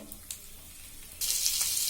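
Sliced onions dropped into hot oil on a tawa, a quiet crackle that jumps into a loud, steady sizzle partway through, close and without voices.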